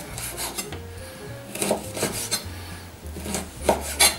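Knife sawing slices off a slab of smoked bacon (lard boucané), rasping strokes in quick bursts with short pauses, close and fairly loud, no talking.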